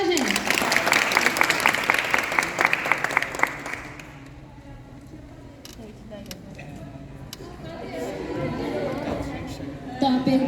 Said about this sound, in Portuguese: Palmas para ela, gente!